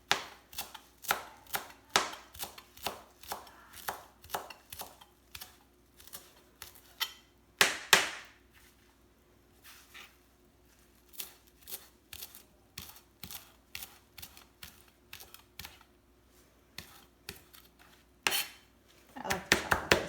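Fresh cilantro leaves chopped with a knife on a cutting board for guacamole: rapid, crisp, close blade taps in steady bursts with brief pauses, no talking.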